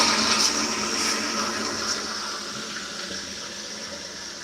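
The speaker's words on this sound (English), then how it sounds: "I better flush at this point." A toilet flushes in one steady, loud rush of water that keeps running and fades a little toward the end, close by and with no voices.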